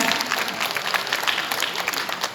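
Guests clap at a national charity award ceremony as a prime minister's commendation is presented, a moderate indoor round of applause with individual claps popping out of the steady patter.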